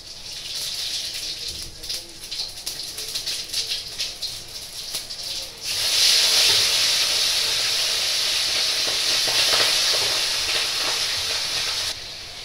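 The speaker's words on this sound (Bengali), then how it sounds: "কড়াইতে এখন জিরে ফোড়ন দেবো।" Cumin seeds spit and sizzle in hot oil in a wok, a steady bright hiss that surges louder about halfway through and holds loud and close, with no one talking.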